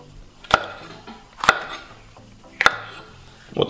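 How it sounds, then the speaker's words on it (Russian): A knife chops bright bell peppers into large pieces on a cutting board. Four separate, sharp strokes land about a second apart, close and crisp, with no talking. "Все, теперь нарезаем перчик"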